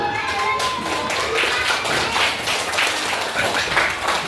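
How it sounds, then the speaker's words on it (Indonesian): Classmates in a classroom applaud a student group with a steady patter of hand claps. The clapping is close and continuous for several seconds, and children's voices mix in underneath. "Berikan aplaus untuk kelompok 1"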